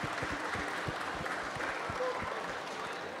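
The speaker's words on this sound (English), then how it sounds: "Round of applause." Audience at a Comic Con gaming high-score challenge applauds a winner, a steady crowd clapping at moderate distance with a few distinct nearby claps standing out.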